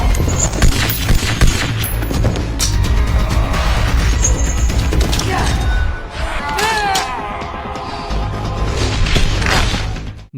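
Gunfire in a Resident Evil film action sequence, dense overlapping shots and heavy impacts, loud and continuous under a dramatic score, briefly thinning before the firing resumes.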